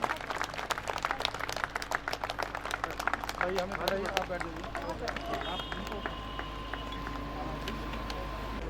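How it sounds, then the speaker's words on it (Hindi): Audience applause at a railway week award function, a dense wash of many hands clapping steadily, with a voice speaking over it and the clapping thinning out toward the end. "जोरदार तालियां श्री बबलू यादव जी के लिए और महाप्रबंधक महोदया के लिए।"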